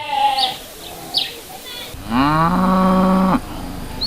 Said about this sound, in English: We are accorded a rousing welcome by these cattle